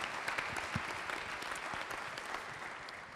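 Conference audience applauding in a hall, a steady, fairly quiet patter of many hands held at an even level, heard from a little distance without speech over it.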